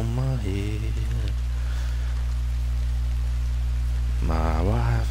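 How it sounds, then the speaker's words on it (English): Steady hiss of rain falling in Red Dead Redemption, a constant wash of noise at moderate volume, with a gruff singing voice over it at the start and again near the end. "Here comes the fucking rain."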